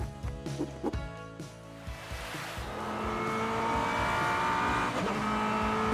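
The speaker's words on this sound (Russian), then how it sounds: "синюю гоночную машину." Cartoon race car sound effect, a blue racing car building from a few sharp revving bursts into a sustained loud engine whine with tire squeal, close and alone.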